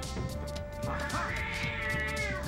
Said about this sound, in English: Is that a fucking cat?